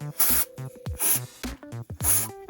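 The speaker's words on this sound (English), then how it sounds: "I'm going to shake it up, and I'm just going to spray the top" Three short, loud hissing bursts of activator from a spray nozzle onto air dry clay magnets, evenly spaced, with quieter tonal background sounds in the gaps.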